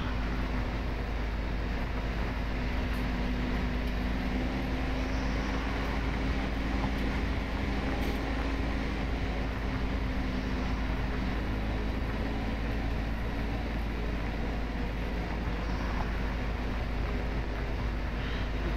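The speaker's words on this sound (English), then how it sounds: "Boy, this tractor really pulls this ripper." A tractor pulling a ripper through a field in a farming video game gives a steady, loud low engine drone that holds constant and unbroken throughout, with no talk over it.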